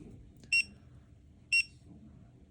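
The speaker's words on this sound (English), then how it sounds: "And we'll start beeping." Three short, sharp electronic warning beeps from a SAAS SG614050 dual EGT and volt gauge reaching max temperature on a bench test sound at even one-second intervals over a faint low hum, with no speech.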